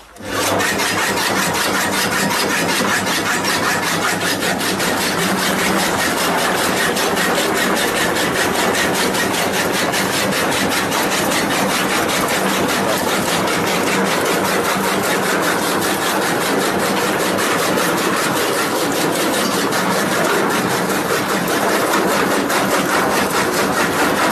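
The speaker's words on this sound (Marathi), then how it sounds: "सरपंच मॉडेलवर जे चालू करून दावतो की तिची क्वालिटी काय आहे आणि काम कसे करते चारा कटिंग वगैरे कसं होतो" A Sarpanch-model chaff cutter (kadba kutti) machine cutting fodder, a loud continuous motorized whir with rapid rasping chops that runs unbroken for the whole stretch.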